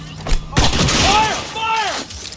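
Gunfire in Cyberpunk 2077, a couple of sharp shot bursts mixed with a shouted voice and other game sounds in a short busy exchange.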